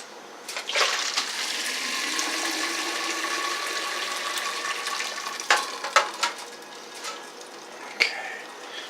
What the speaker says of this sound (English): I'm gonna take this out, drain off the chicken